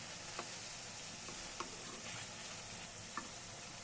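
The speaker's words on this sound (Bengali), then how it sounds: "টমেটো তেলে নিচ্ছি আর কি, চাটনির জন্য।" Tomatoes fry in oil with ginger paste for chutney, a constant hissing sizzle with three faint, evenly spaced clicks from a spoon against the pan.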